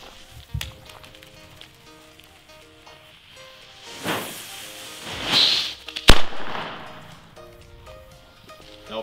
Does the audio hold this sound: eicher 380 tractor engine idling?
no